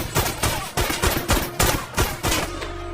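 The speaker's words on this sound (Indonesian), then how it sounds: "untuk pertama kalinya tembakan Luke meleset saat hendak membunuh anak kecil." A rapid series of loud gunshots in the film Lucky Day, about seven sharp bangs in quick succession, evenly spaced like a burst of automatic fire.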